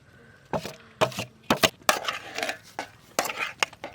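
A metal spatula clatters and scrapes against a pan while stirring torn parotta into sautéed onions for kothu parotta, giving a string of sharp, uneven clanks and knocks up close with no talking.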